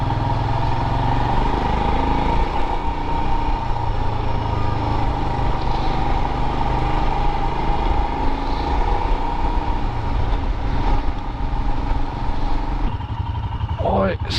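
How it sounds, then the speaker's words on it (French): Motorcycle ride on a Royal Enfield Himalayan with a Triumph T100 alongside, a steady loud engine drone and wind rush throughout, with a voice talking over it. "La moto."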